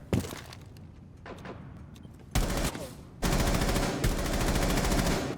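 Gunfire in a shooter video game comes loud and close. A few scattered shots are followed by sustained automatic bursts that grow denser toward the end, with no talking.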